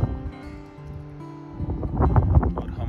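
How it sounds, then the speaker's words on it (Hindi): Very strong wind gusting across a hilltop campsite, a continuous loud rumbling roar that builds and grows more turbulent toward the end, with buffeting noise on the microphone. "बहुत ही ज़्यादा तेज हवा चल रही है"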